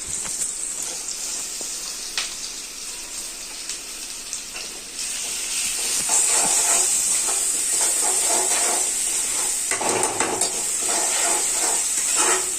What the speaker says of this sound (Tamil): இஞ்சி பூண்டு நான் அரைச்சி வச்சிருக்கேன், அதே இதில் சேர்த்துடலாம்.